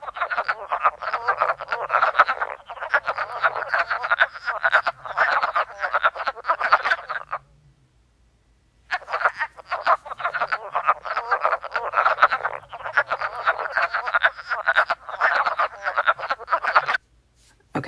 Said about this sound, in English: Here's the sound of wood frogs.